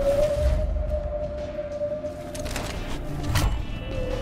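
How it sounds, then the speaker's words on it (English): Whale calls in the zombie game Dead Island 2: a long, steady tonal moan sustained over low rumbling ambience, followed by a brief rising cry near the end, with no talking. "Just when it couldn't get any weirder, I'm hearing whales."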